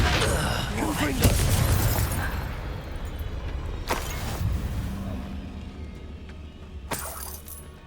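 Confringo blasting-curse explosions during a spell-slinging duel in Hogwarts Legacy: sharp, bright bursts at the start and again at about four and seven seconds, each with a brief crackling tail, over a dense, rumbling battle bed.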